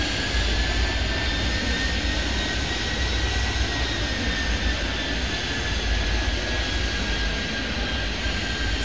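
A jet airliner in the airport game Airport Madness 3D roars steadily on takeoff, a loud, unbroken engine drone with a high whine filling the whole stretch and no talk.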